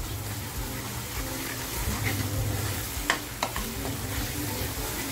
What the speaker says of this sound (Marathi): मसाला आपला छान फ्राय झालाय।